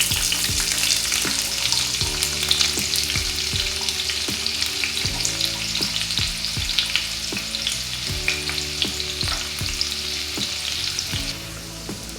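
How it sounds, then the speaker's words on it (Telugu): Onions frying in a pan with fenugreek seeds for a crab curry, giving a steady, loud sizzle with occasional stirring scrapes and clinks throughout, no voices. "ఆనియన్స్ ఫ్రై అయినాయి"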